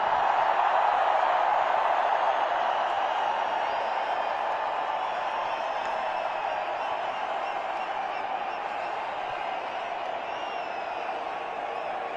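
Cricket stadium crowd at an India match roaring and cheering for captain Rohit Sharma, a dense sustained wall of distant voices, loud and steady for the whole stretch.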